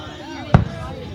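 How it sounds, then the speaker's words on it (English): A single firework burst at a 4th of July show goes off as one sharp, loud boom midway, ringing briefly before fading back into steady crowd noise and chatter. "I'm just trying to film the fireworks."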